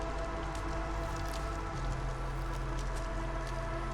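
Light drizzle falls steadily in the video game Against the Storm, a soft continuous patter of rain over a low ambient hum, with no voices heard.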